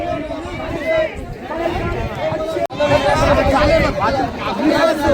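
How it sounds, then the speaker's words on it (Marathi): Dense crowd chatter fills a packed fish market at Alibag harbour on a Sunday morning, many overlapping voices close by and continuous, with a brief drop near the middle. "फुल गर्दी झाली आहे पाय ठेवायला जागा नाही"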